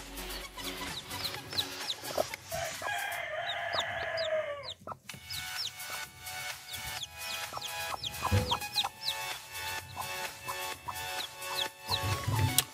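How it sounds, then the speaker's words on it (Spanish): Chickens cheep and cluck nearby with newly hatched chicks among them, a busy overlapping stream of short chirps and calls running throughout, fairly close and steady, with no talk over it. "veo varios pollos ya"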